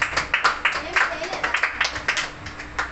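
A meeting audience claps to welcome action song performers, a brisk patter of hand claps in quick, uneven beats, with a voice speaking underneath.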